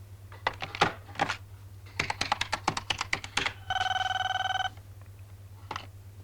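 A telephone bell rings once in a bright, buzzing burst, preceded by a run of sharp, rapid typing-like clicks and followed by a single faint click.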